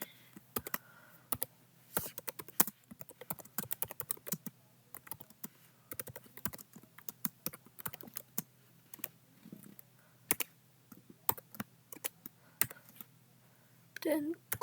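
Someone types on a computer keyboard with rapid, uneven bursts of close key clicks and short pauses between them, and a faint voice sometimes speaks over the typing.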